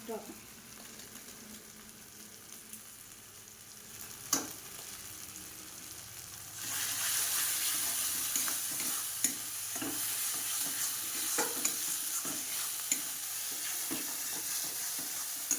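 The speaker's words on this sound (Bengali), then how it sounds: "ভালো করে কষতে হবে যতক্ষণ না মশলাটায় তেল ছেড়ে" Masala for pointed gourd with shrimp is stir-fried in a pan, giving a steady sizzle with the scrape and clatter of a spoon stirring. The frying grows louder partway through, and soft speech can be heard faintly beneath it.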